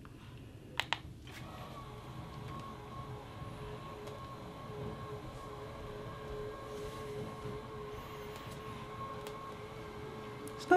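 IKEA FYRTUR smart roller blind motor running steadily, a continuous low mechanical hum with faint whine holding at an even level for about nine seconds after a couple of sharp clicks at the start.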